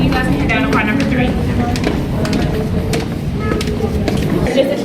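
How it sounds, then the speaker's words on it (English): Low rumbling of a tram car descending inside the Gateway Arch, with scattered metallic squeals and clanks and muffled voices in the background. "Just a train making its way back down, and it's supposed to sound like that"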